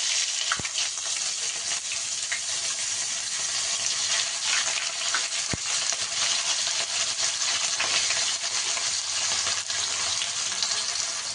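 Chopped onions fry in hot white oil for a Kerala-style chicken curry, giving a steady, loud, even sizzle throughout with a couple of sharp clicks and no voices.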